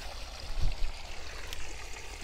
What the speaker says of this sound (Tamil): இதில் வந்து கொஞ்சம் தண்ணி வந்து வெளியே போயிட்டே இருக்கும்.